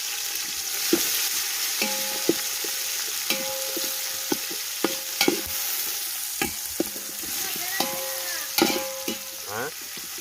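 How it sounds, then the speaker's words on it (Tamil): Chopped onions sizzle steadily in hot oil for a snail gravy, with mustard seeds, cumin, pepper and curry leaves already in the pan, while a spoon stirs and scrapes in frequent clinks and thuds, close and fairly loud. "வெங்காயத்தை போடுறோம்."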